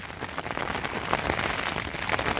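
Heavy rain during a downpour on the coast path between Exmouth and Sidmouth, a dense close patter drumming on a surface, steady throughout with brief louder splashes and no speech.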